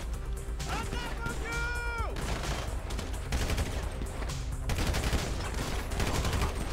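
Rapid gunfire bursts from GTA V, loud and continuous with crashes and game music mixed in, while a player talks excitedly over the shooting.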